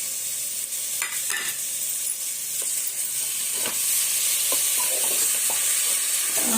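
Garlic paste and chicken pieces frying in a pan for bambino chicken biryani, a continuous loud sizzle with occasional stirring clatter and scraping, no voices.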